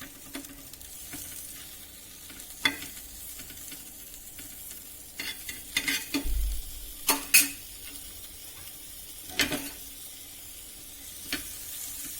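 A spoon stirs and scrapes pav bhaji in a hot pan under a steady sizzle, with louder clatters against the pan now and then and no talking.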